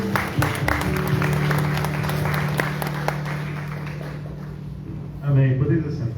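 Congregational applause during a Sunday morning church service, a dense, steady clapping from the crowd that fades out, with a voice speaking over it.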